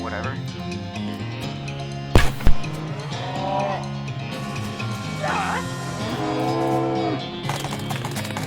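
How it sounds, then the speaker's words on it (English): Cows in the video game West of Loathing moo loudly several times over a music bed, with a couple of sharp crash-like hits early on and a voice talking beneath. "There's no way past these cows except through these cows."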